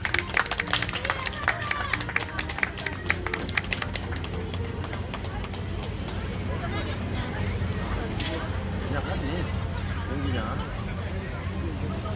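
Audience clapping at a neighborhood residents' general assembly, a dense burst of applause for the first several seconds that thins into low crowd murmur, with a voice speaking over it.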